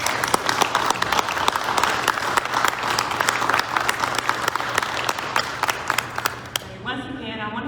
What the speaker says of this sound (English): we can give the milestone another round of applause, please.